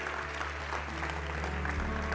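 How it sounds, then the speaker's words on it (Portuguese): Church congregation applauding together during a service, steady dense clapping throughout a short stretch, moderately loud with a faint room hum underneath. "Aplauda ao Senhor."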